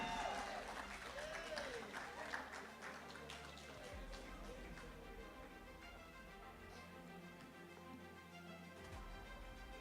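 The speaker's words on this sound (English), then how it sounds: "Let's give him a round of applause." Applause for an award winner at the GFA Awards ceremony, a steady wash of clapping from the audience lasting throughout, moderately distant and fairly faint, with voices murmuring underneath.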